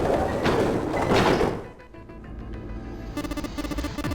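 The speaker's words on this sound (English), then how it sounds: "the gates creaked open" Heavy gates in the video game 999 are pushed open with a loud, rough grinding rush that fades into a low steady hum with faint rhythmic ticking.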